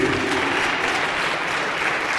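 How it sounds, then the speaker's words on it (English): Steady, dense audience applause fills a hall at the Northern Cape Crime Indaba, an official crime conference, holding an even, moderately loud level for the whole stretch with no voices on top. "Another round of applause, please."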